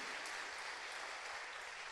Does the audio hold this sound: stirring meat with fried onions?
no